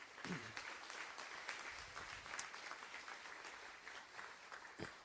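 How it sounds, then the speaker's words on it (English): Steady applause from a crowd at a school board session recognizing students and parents, fairly quiet and continuous throughout, with a few scattered louder claps and faint voices underneath. "And then you can clap for the students too."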